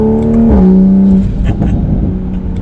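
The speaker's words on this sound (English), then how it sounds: "I'm in 3rd gear. If I floor it right now," A tuned Toyota A90 Supra is floored in third gear, its engine note climbing loud and close, a strong rising drone with a shift in pitch midway before settling into a rougher roar.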